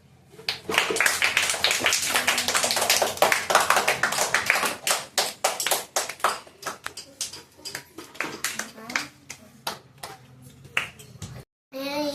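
Classroom clapping from schoolchildren, a dense burst of quick hand claps that thins into scattered irregular claps before fading out.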